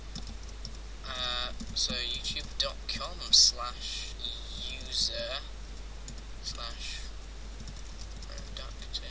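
Rapid, close key clatter from a computer keyboard comes in clustered bursts with brief pauses, over a low steady hum, while a voice speaks briefly.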